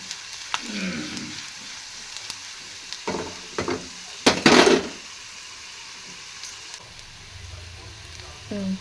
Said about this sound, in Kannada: ಈಗ ಅದಕ್ಕೆ ಬೆಳ್ಳುಳ್ಳಿ ಒಗ್ಗರಣೆ ಕೊಡತ್ತೀನಿ ರೀ